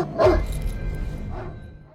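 Tracking dog on patrol with a guard in a war film, letting out a single close bark followed by a fainter second yelp as the sound trails off.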